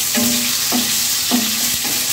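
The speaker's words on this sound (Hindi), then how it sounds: "और हाई फ्लेम पे भूनेंगे ताकि हमारा टमाटर थोड़ा गल जाए" Tomatoes stirred and fried in a pan over a high flame, a steady sizzle broken by three or four scraping stirs at roughly half-second intervals, close and moderately loud with no talking.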